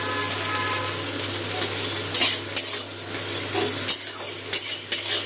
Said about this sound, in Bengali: পেঁয়াজটা এই যে লাল করে ভেজে নিচ্ছি